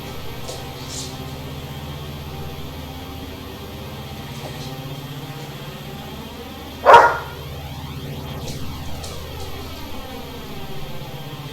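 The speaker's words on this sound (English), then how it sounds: "the dogs are getting impatient too." One short, sharp dog bark cuts through midway, over the steady low drone of a diesel locomotive climbing Sand Patch Grade in Train Sim World.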